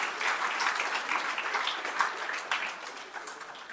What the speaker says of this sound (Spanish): Démosle palmas a Cristo.